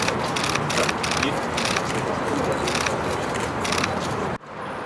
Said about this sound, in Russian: Без фанфар, но под звуки затворов фотоаппаратов.